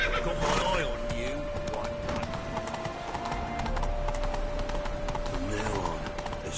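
Roach the horse in The Witcher video game gives two loud, shaky whinnies, one near the start and one near the end, over steady game ambience and hoof clatter.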